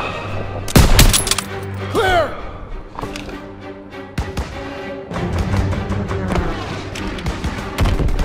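Gunfire in the Call of Duty WWII video game: scattered sharp shots and thuds amid a busy battle soundscape, with shouted voices and whooshing effects over a steady rumble.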